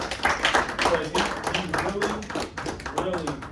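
An audience claps for a speaker at an Ohio State University African American male leadership event, a scattered run of handclaps mixed with cheering voices and chatter throughout.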